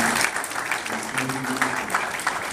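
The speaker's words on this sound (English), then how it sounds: "So a round of applause to all of you guys for having this program." Workshop audience applauding, a dense, steady patter of many hands clapping throughout, with faint voices in the room.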